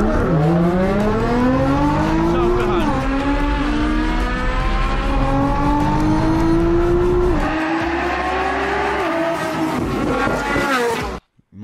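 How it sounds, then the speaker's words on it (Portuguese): A 700 hp Nissan GT-R launches hard with launch control while racing a Ferrari, its engine roaring loud and continuous and climbing through several gear changes before cutting off abruptly. "Já vou fazer o Launch Control."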